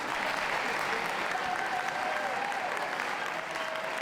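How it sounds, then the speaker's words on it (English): Steady, dense applause from a dog show crowd after group winners including a miniature poodle are placed, with the clapping blending into an even wash of sound and a faint voice underneath. "Give a round of applause,"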